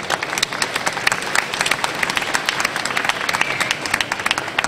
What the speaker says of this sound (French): elles méritent quelques applaudissements